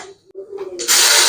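Cumin seeds and dried chillies hit hot oil for a traditional cauliflower curry; after a brief quiet moment a sudden, loud, bright sizzle erupts and keeps crackling steadily.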